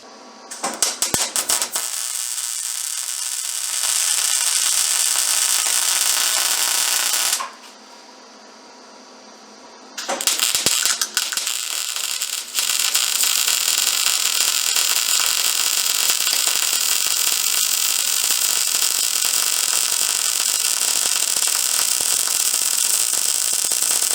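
A loud power tool cuts into a part on a Gravely Protero bagger, with a harsh, continuous grinding whine that pauses for a few seconds and then runs steadily again until the end.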